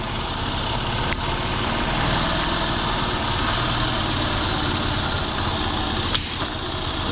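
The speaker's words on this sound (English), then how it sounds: "Yep, wants to roll because it's still idling pretty high." A 1980 Honda C70 Passport small motorcycle engine idles fast and steady in first gear, a continuous buzzing rumble with a couple of faint clicks, no voices.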